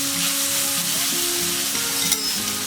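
Two tablespoons of salsa sizzling in a hot paella pan with chicken and mushrooms, a loud, continuous close hiss and crackle with no talking.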